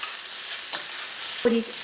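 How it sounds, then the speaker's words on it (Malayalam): A spoon stirs coconut rice with lemon juice and salt in a pan over a low flame, giving a soft, steady scraping and faint sizzle, with one sharper scrape near the end and no talking. "ഇതെല്ലാം കൂടിയിട്ട് നമുക്കൊന്ന് മിക്സ് ചെയ്യാം."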